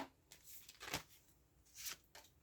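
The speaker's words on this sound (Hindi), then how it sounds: "ओवरऑल के लिए एक बार मैं दोबारा शफल करना चाहूँगी" Tarot cards being shuffled in a few quick bursts, with soft riffling and tapping at close range and short pauses between bursts.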